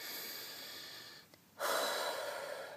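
A deep breath during a guided meditation: a soft, steady airy hiss, a brief pause, then a fuller rush of breath, close and quiet with no talking.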